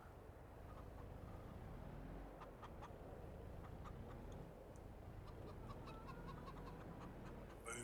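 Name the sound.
chickens clucking in video game Farming Simulator 22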